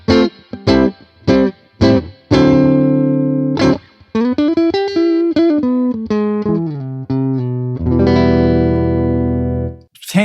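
Electric guitar through an AmpliTube 5 Fender amp model pushed harder into crunchy drive: a few short stabbed chords, then a run of single notes and sustained chords ending on a big ringing strum, loud and close, with no talking.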